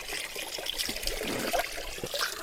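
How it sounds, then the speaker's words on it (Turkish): Cold spring water trickles and splashes from a village fountain in Alacaoğlu, Gönen, Balıkesir. The flow is soft, continuous and close, with no talk over it. "Bakın buz gibi kaynak suyu."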